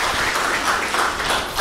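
An audience at a women's volleyball rookie draft applauds as team officials and coaches are introduced, a continuous dense wash of clapping that holds steady and fairly loud throughout.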